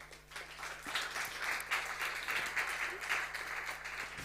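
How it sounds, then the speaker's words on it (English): Sustained applause from a festival stage audience as a panel walks on, steady and fairly distant clapping with a murmur of crowd noise underneath. "A round of applause, please."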